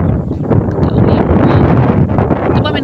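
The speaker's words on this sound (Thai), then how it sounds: "ลมหนาวมื้อนี้เป็นอากาศเย็นคัก" Strong cold wind blows outdoors at a vegetable garden plot, buffeting the microphone with a loud, continuous rumbling roar.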